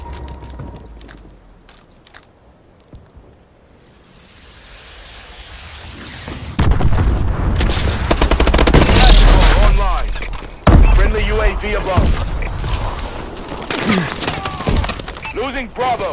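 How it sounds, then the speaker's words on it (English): Missile strikes land in Call of Duty: Advanced Warfare multiplayer, sending loud, rumbling explosions and roaring impacts through the battlefield after a quieter stretch of mechanical clicks and gunfire. In-game voices speak over the blasts. "Friendly missile strikes incoming."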